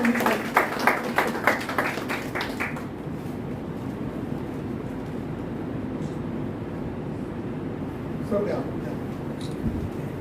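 Audience applause at an award ceremony, a dense steady crowd clapping that rises after a spoken call and carries on loud through the moment, with a voice over it at the start.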